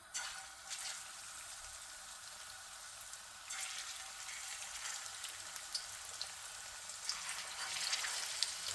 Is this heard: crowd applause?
no